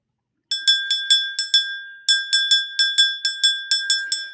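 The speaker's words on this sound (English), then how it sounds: "Let me ring this bell, guys." A hand bell rings in quick repeated shakes, one burst of clangs, a brief pause, then another longer run, bright and close with no voices.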